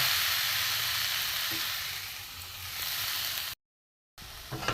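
Carrot laddu mixture with milk powder being stirred in a pan, giving a steady soft sizzle and scraping that fades slightly, cuts out briefly, then returns with a few light clinks.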